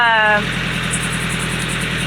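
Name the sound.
sailboat engine running after battery test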